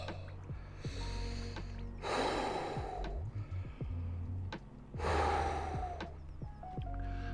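A person breathes heavily and deeply while sitting in a winter ice bath, taking two loud, drawn-out breaths a few seconds apart over a low background hum.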